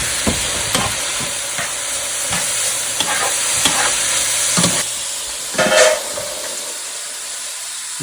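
Sausage frying in a sautéing pan while being stirred, a steady close sizzle with repeated scraping strokes that ease off into quieter hissing near the end.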